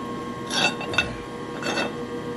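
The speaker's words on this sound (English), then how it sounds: "That's the 10 horsepower rotary phase converter that powers this side of the shop." A 10 horsepower rotary phase converter runs in a workshop, giving a steady, low-level electrical drone under faint broadband room noise, with a couple of soft swells of extra clatter.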